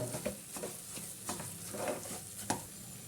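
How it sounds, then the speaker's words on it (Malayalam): Mysore pak batter made with Amrutham powder is stirred in a pan over a low flame, giving soft, irregular scraping strokes with a faint sizzle, quiet and close, with no voices. "കുറേശ്ശെ ഒഴിച്ച് കൊടുത്തിട്ട് നമുക്കൊന്ന് മിക്സ് ചെയ്തെടുക്കാം. ലോ ഫ്ലെയിമിലേക്കാണ് കേട്ടോ വെച്ച് കൊടുത്തേക്കണത്"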